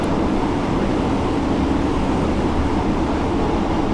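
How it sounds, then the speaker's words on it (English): ÖBB 1020 Krokodil electric locomotive braking on the snowy Mittenwaldbahn near Garmisch-Partenkirchen in Train Sim World 6: a steady, loud rumble and hiss of wheels on rail that stays even throughout, with no talk. "The locomotive brake on the Krokodil is pretty effective at slowing down"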